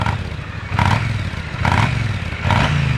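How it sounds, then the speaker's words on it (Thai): A 2017 Triumph Bonneville T100 Black motorcycle with stock exhaust, revved in three quick bursts that rise sharply and drop back to idle, loud and close with no talk over them. "ขึ้นเร็วลงเร็ว รอบเครื่องยนต์นิ่งครับผม ไม่มีสะดุดเลย"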